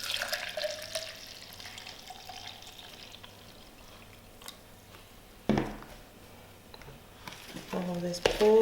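Warm water, 300 ml, poured into sweet doughnut (gboflotos) batter: a soft trickling pour that rises briefly in splashy bursts, with a voice speaking at times.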